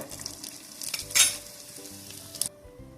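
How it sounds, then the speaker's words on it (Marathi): Sweet corn kernels hit melted ghee in a hot pan and sizzle steadily, with a few scraping stirs and a brief louder crackle, close and with no voices. "आता या मेल्ट झालेल्या तुपात स्वीटकॉर्न घालूया"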